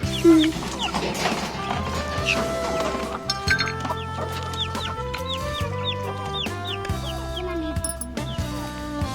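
Chickens, including a Silky, cluck repeatedly in short rhythmic calls close by, over steady background noise, with little talking.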